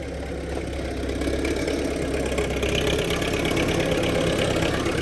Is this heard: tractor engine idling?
yes